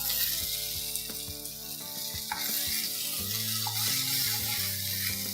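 Mashed eggplant bharta cooking in a pan, a dense, steady sizzle and fry noise with a few stirring scrapes, over a background of sustained music.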